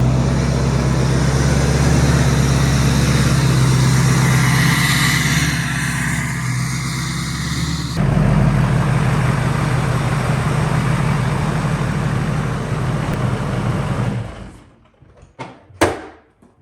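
A pickup truck engine runs loud and steady with a deep rumble for about fourteen seconds as it pulls into a garage, then cuts off, followed by a couple of sharp knocks.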